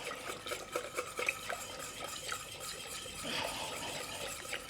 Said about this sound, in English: Now we mix to get all that lumps away.